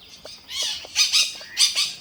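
Ring-necked parakeet giving harsh, grating squawks in a forest, three or four raspy bursts in quick succession, fairly close and clear over quiet woodland.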